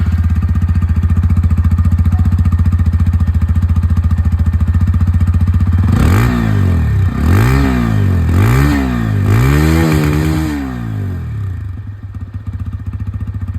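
A TVS Apache 160 2V Racing Edition motorcycle idles steadily with a loud, close exhaust note, then is revved in several sharp bursts that rise and fall before settling back to idle, with no talking.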